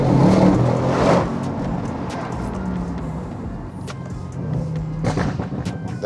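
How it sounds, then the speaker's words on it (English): An Audi RS6 with a 4-litre twin-turbo V8, modified with bolt-on parts, rumbles deep and loud, swelling in a rev early on, then settling into a steady throbbing idle with small rises. "now it sounds like an Audi RS6 4-litre twin turbo"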